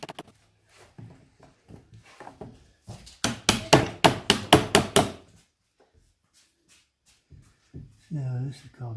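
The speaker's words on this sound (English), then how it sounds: "It's oak, it's not going to chisel very easy" A hammer strikes a chisel into oak wood on a rabbit hutch build, producing a quick burst of about eight sharp, close knocks in steady rhythm, with speech before and after.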